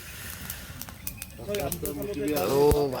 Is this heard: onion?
no